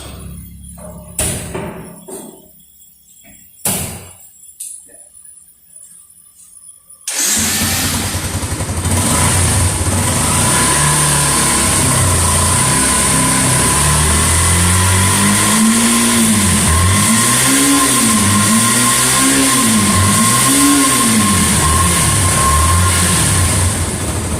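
A hard-to-start motorcycle in a workshop, its exhaust ducted outdoors: a few sharp clicks and knocks, then at about seven seconds the engine catches and runs loud and close, with steady rising-and-falling revs.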